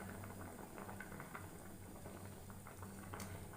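Macaroni simmering in a pot of boiling water bubbles steadily and softly, a continuous close patter of rolling bubbles with a low hum underneath and no voices.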